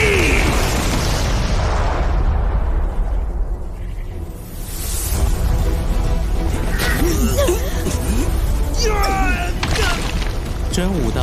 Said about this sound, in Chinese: 瞬间能发生数万次猛烈爆炸